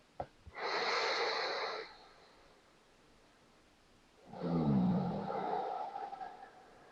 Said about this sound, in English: Returning to long, deep breathing through the nose.